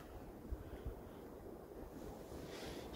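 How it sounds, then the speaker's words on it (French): Wind and surf on the coast beside a parked camper van near a lighthouse, a steady broad roar of waves and gusting wind with a couple of soft low thumps near the start. "Je sais pas si vous entendez le vent ou les vagues."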